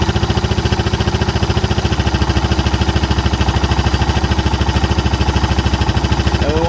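A Suzuki DR650 single-cylinder motorcycle engine idles steadily at roughly 1500 RPM, after a carburetor pilot mixture screw adjustment; a close, loud, even thumping pulse runs throughout with no voices.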